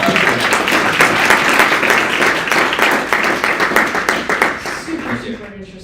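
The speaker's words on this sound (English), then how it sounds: "Let's give him a big round of applause." Audience applause at a startup seminar, loud and dense clapping from a crowd that thins and fades toward the end as voices start to come through.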